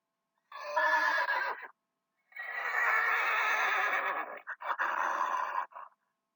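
A horse whinnies loudly three times in a row, each neigh long and shrill with a shaky, trembling quality, close by and with no talking.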